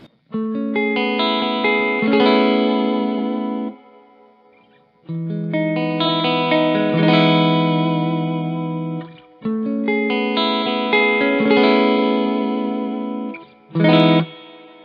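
Electric guitar chords ring out through a Bad Cat Cougar 50 amp with heavy reverb and effects, sustained in three long phrases with brief gaps, ending in a short strum.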